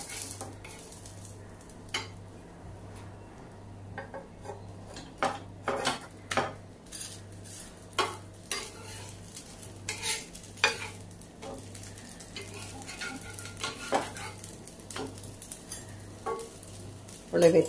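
A spicy moringa flower dosa fries and crisps in a pan on the gas, with a soft continuous sizzle under repeated sharp scrapes and clinks of a spatula against the pan, and a low hum running throughout.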